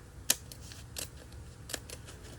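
Scissors snip through paper while cutting out a bookmark, a few sharp, quiet cuts spaced irregularly with soft rustle between them.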